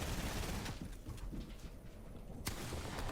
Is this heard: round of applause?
no